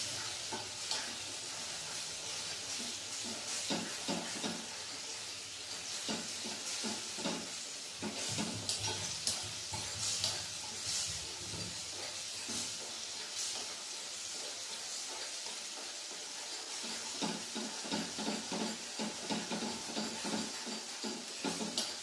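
Thick herbal paste for a sprain remedy cooking in a pan, sizzling and hissing steadily with irregular scraping stirs throughout, moderately loud and close, no voices.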